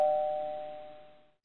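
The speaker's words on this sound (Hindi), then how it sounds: "घंटी पे हाथ रख लेते हैं, हटाते नहीं" One bright electronic doorbell chime rings once and decays slowly over about a second, clear and alone.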